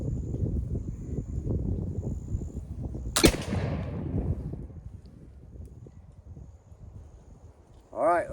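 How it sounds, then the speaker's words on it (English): A single loud shotgun blast, fired with a square turkey load at a target, cracks out over faint outdoor wind noise and echoes away, with a brief voice at the end. "let me take my shot here, and hopefully we'll have some pellets on the target"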